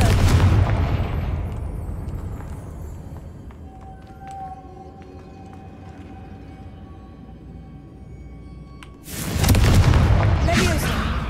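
In the Hogwarts Legacy video game, the Confringo explosive spell goes off as a loud, deep boom at the start, then quieter magical tinkling and tones, then a second heavy blast near the end.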